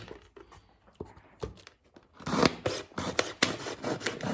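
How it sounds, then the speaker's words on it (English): A knife cuts around a 2-liter plastic Coke bottle, making scraping, crinkling plastic sounds, sparse at first and then denser and louder, in close rhythmic rasps with no talking. "So what I'm going to do is I'm going to take my knife and cut all the way around the edge"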